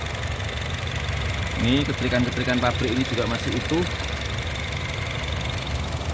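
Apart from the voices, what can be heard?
Honda HR-V engine idling smoothly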